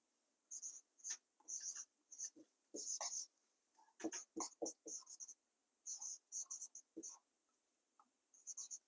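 A pen scratches out a class 7 maths equation question on paper in quick, close, bursty strokes and short pauses, with no talking.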